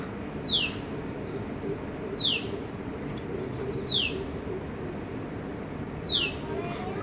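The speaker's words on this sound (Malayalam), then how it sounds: "വെയിൽ വന്നതോടെ നമ്മുടെ കുരുവികളും ഒക്കെ വന്ന് ഒച്ചയുണ്ടാക്കുവാണ് കേട്ടോ" Sparrows perched on a plant in sunlight give four short, sharp chirps at spaced intervals over a steady background hiss, moderately near, with no talk.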